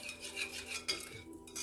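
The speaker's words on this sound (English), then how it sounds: "I'm going to whisk those together" A whisk scrapes and clinks against a bowl as a vinegar marinade for mushrooms is mixed, giving a steady close-up rhythmic rasp that stays on its own with no talking.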